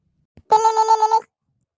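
A single short electronic telephone ring, a warbling trill lasting under a second after a faint click, then silence.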